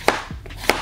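Two crisp knife chops through zucchini and mushrooms on a cutting board, close and sharp, spaced about half a second apart with no talking.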